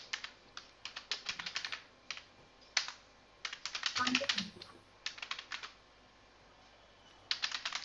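Computer keyboard keys clatter in quick bursts while Java code is typed, close and crisp, with short pauses between runs of keystrokes.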